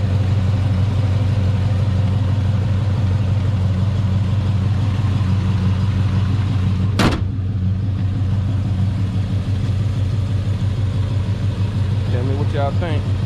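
A Monte Carlo SS with a 305 high-output V8 runs at a steady idle, a loud continuous low rumble filling the whole stretch, with one brief sharp burst partway through.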